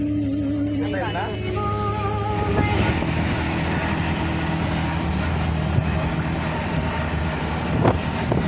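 A passenger train on a trip through Konkan rolls along the rails, its loud continuous rumble and rattle steady throughout, with voices talking over it at the start.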